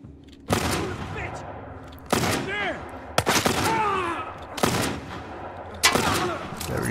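Shotgun blasts in The Last of Us, five or six heavy, close shots fired at uneven intervals, each with a sharp attack and a decaying tail, with game effects and brief voices in between.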